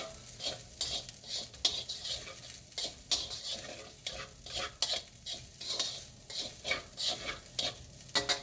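Fried rice crisps in rice oil in a pan, a constant close sizzle punctuated by rapid, rhythmic scrapes and clicks of a utensil stirring against the pan, with no voices.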